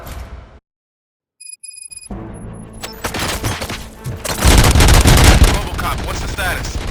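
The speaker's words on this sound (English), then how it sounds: "Gunshots?" Gunfire in the video game RoboCop: Rogue City erupts after a brief silent gap, building from scattered shots into dense, loud automatic bursts with heavy thuds, and some voice beneath the din.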